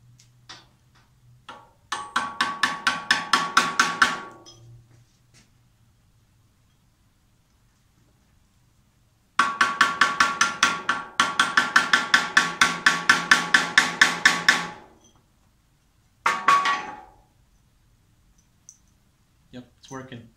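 Brass bushing being tapped into a Porsche 915 gearbox with a brass drift: bursts of rapid, evenly spaced metallic taps, three separate runs with pauses between, close and fairly loud.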